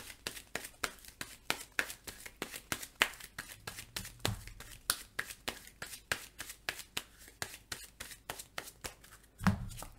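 Playing cards for the Marvel Legendary deck-building game are shuffled close by in a quick series of soft riffles and snaps, evenly rhythmic and fairly quiet.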